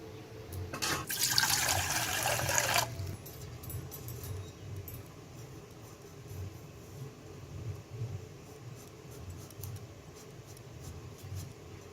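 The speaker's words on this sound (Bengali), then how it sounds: "জল দিয়ে দিচ্ছি।" Water poured into a cooking pot for boiling potatoes, a brief bright splashing gush near the start followed by quieter trickling and low kitchen noise.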